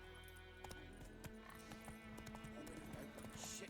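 Hooves of Roach, the horse in the video game The Witcher 3, clip-clopping at speed in a rapid, irregular rhythm, close and clear over faint game music.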